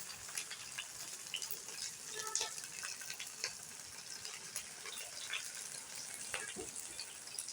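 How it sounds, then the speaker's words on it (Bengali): Shrimp and banana flower patturi wrapped in gourd leaves fry in hot oil, giving a faint, even sizzle with small scattered pops and crackles throughout. "তেল গরম হয়ে গেছে, এবার পাতুরিগুলো দিয়ে দেবো।"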